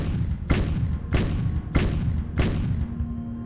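Howitzer artillery firing in the Decisive Campaigns: Ardennes Offensive strategy game, four evenly spaced heavy thuds about half a second apart over a low rumbling background.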